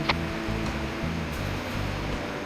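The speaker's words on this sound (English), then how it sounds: "there's the ocean." Ocean waves wash against a rocky shore in Uramba Bahía Málaga National Park, a steady, continuous surf roar with a low rumble underneath and no voices.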